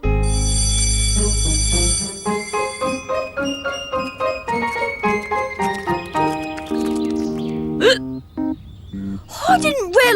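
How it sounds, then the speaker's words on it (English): Cartoon character hiccuping in an animated episode, several sharp hiccups near the end of a stretch of bright musical tones and effects, with a voice also heard. "how am I going to get rid of these hiccups?"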